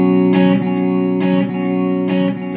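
Sustained electric guitar chords through a Mesa Boogie Royal Atlantic amp ring out in three strummed bursts. Reverb and delay pedals in the effects loop make them swell with lush reverb and echoing repeats that blur into each other.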